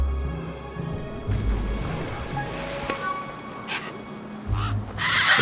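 A bird in the video game Beyond Steel gives a few harsh caws over a low ambient game backdrop, with rumbling tones and a sudden bright burst near the end.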